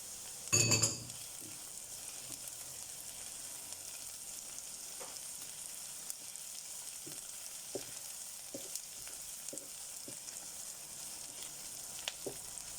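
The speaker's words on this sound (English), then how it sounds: "we're just going to mix this round, wait for the garlic to go slightly golden brown" Garlic frying in a pan for Portuguese feijão, a steady soft sizzle broken by a few scraping stirs and light clinks, with a louder burst of sizzling near the start.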